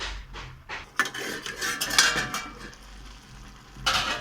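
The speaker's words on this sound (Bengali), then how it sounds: "আমি নেড়ে ছেড়ে এইভাবে চাপা দিয়ে দিয়ে কষিয়ে নিয়ে তরকারিটা তৈরি করে নিয়ে দেখাচ্ছি" Cabbage curry is stirred and pressed in a pot, with metal spoon scrapes and clanks against the pan in quick bursts and a soft background sizzle, close and loud with no talking.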